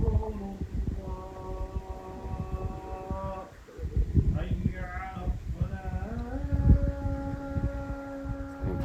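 A cow in a town on the Pamir Highway in Tajikistan gives long, drawn-out moos, close and fairly loud, with people talking nearby.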